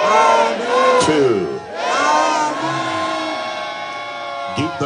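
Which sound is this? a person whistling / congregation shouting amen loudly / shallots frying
congregation shouting amen loudly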